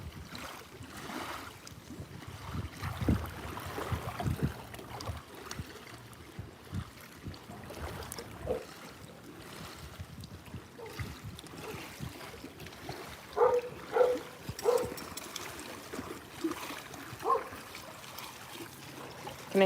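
A dog is washed in an outdoor shower, with water trickling and splashing unevenly at moderate level throughout and a few brief louder bursts.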